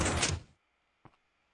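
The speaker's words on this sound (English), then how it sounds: "whenever you open your door" A 3x3 Minecraft piston door opens with a short burst of whooshing, grinding motion, then silence and a quick double thunk, faint and alone.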